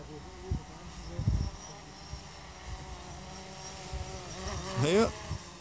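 A DJI Phantom 4 drone flies overhead while mapping weeds in a field, its steady insect-like propeller buzz running faint beneath outdoor noise, with a brief rising whine near the end as it moves closer.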